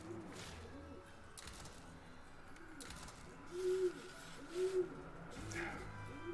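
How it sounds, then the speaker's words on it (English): Pigeons coo outside in a repeated rising-falling pattern, several calls spaced across the stretch and growing a little louder toward the middle, set against a low steady background hum. "I apologize if you can hear those pigeons."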